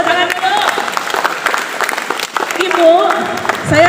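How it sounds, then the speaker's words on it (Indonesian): Applause from participants at a teacher training session, clapping that runs under people talking and calling out nearby. "Tepuk tangan dulu."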